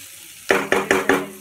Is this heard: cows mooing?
no